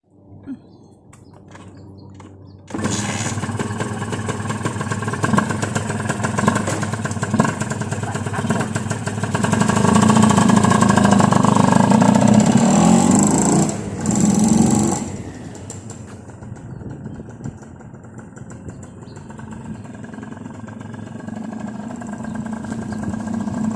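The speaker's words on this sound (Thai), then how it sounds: "ก็เดี๋ยวจะลองขี่แถวๆนี้สักหน่อยนะ ดูเช็คความเรียบร้อยแต่ว่ามันก็น่าจะปกติแล้วแหละ" A motorcycle engine runs on a test ride after a repair for not starting after long parking. It comes in abruptly at a steady loud drone, swells louder through a revving stretch, then settles to a lower hum, with no talk.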